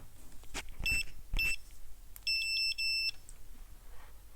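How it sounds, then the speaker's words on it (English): A multimeter in continuity mode beeps twice, each a steady electronic tone under a second long, during a repair on the actuator control unit of a BMW E46 1.8 Valvetronic. Two short thumps and a click come before the beeps. "Meter in continuity mode."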